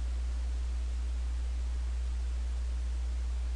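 A 5/8 ball end cutter on a CNC router making a surface finish cut across a red oak vase, giving a steady, even broadband hiss with no variation throughout.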